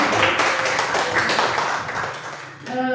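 An audience at a teachers' collaboration session gives a dense burst of hand-clapping that carries steadily for a few seconds before thinning out as a voice begins.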